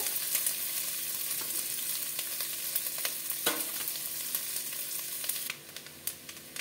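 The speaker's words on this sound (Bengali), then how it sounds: "আমি নারকেলটা ভেজে তুলে নেব।" Coconut pieces frying in oil in a pan, a steady dense sizzle with occasional crackles and pops, close and continuous, quieting slightly near the end.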